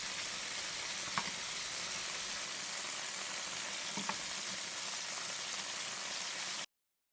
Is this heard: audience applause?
no